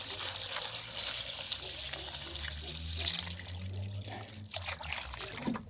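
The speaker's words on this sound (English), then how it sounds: "And then I'll add some water in, give them a rinse, make them nice and clean." Water trickles and splashes steadily into a container to rinse pond stones, a close, continuous pouring sound with small fluctuations.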